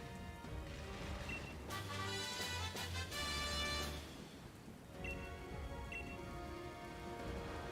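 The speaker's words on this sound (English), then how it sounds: "Whatever they've done, they've brought the bloody rain." Steady rain falls in the video game Pokemon Shield, a continuous hiss of drops with a brief louder swell midway and faint low rumbling tones underneath, no voices.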